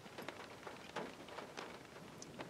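Rain falling outdoors, a soft steady patter of drops on surfaces with scattered slightly sharper taps, faint and continuous with no voices.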